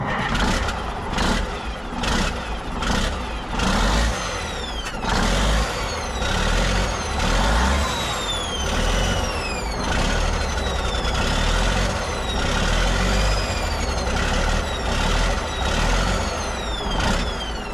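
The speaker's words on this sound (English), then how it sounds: "I can definitely hear this turbo scraping." A running Kenworth W900A truck engine with a worn, scraping turbo drones loud and steady, with rising and falling whistles and rhythmic knocks layered over the rumble. No one speaks.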